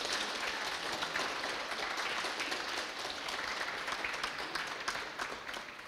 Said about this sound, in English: So I want you to give this group a round of applause,